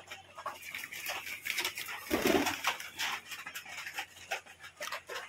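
A red mottled pigeon drinks water after feeding, with soft pecking, scratching and rustling sounds close by in short irregular bursts, one louder scrape in the middle.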